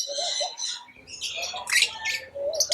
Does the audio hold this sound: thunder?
no